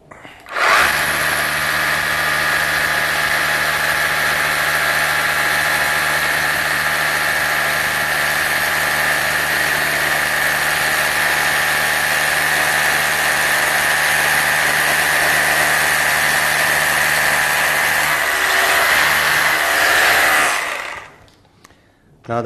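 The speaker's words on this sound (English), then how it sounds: "Right, so we're going to drill the hole." A power drill whines loudly and continuously for about twenty seconds, boring steadily into concrete, then stops.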